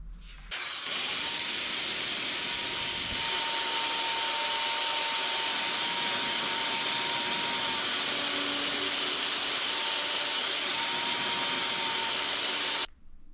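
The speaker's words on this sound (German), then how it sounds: "Wenn ihr dann nochmal mit der Flex hier rüber geht, dann müsst ihr aufpassen, dass das nicht ganz so heiß wird, die Klinge." An angle grinder grinding a steel spear blade, a loud continuous high whining hiss held steady for about twelve seconds before cutting off abruptly.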